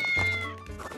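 A cat meows loudly and close up, one drawn-out harmonic cry that dips in the middle and trails off, with a steady low hum underneath.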